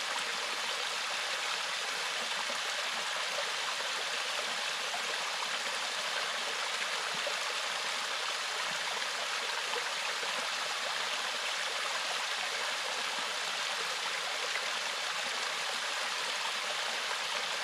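Clear water flowing steadily at a strong spring-fed stream in the forest, a continuous close rushing and gurgling wash with no pauses, no voices.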